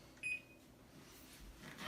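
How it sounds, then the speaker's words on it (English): An oven's timer button gives one short, thin electronic beep while pumpkin bread is being baked, followed by quiet room sound. "And we press the timer."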